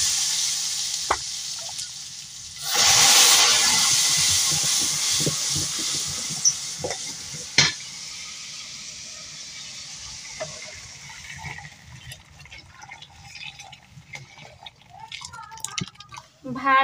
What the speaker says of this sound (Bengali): এবার আমি ডাল মশলা দিয়ে তেলে দিব